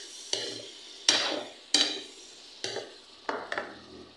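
Spoon stirring fried eggplant into chicken liver adobo in a pan, a few sharp scraping clatters at uneven intervals, close and moderately loud with faint sizzling between.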